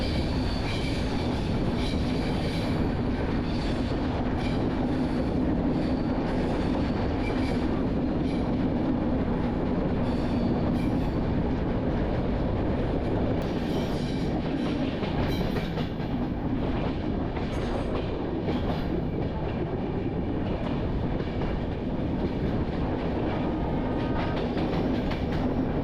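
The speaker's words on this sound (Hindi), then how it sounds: "हमारा ट्रेन आज की इस खूबसूरत जर्नी की पहली टनल में एंट्री करने वाला है।" A passenger train from Visakhapatnam climbs into the hills toward Araku Valley, giving a loud, continuous rumble of wheels on rails with rattling carriages and faint clickety-clack throughout.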